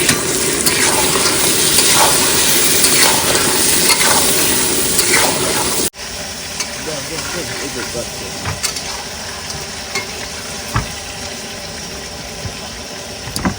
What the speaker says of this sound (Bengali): এবার দিয়ে দেবো কাঁকড়া এবার ভালো করে কষাবো